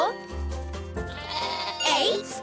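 Cartoon sheep let out a few wavering bleats in quick succession, bright and close, with a voiced, animated quality.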